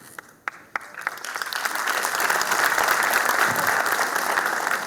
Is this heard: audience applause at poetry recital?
yes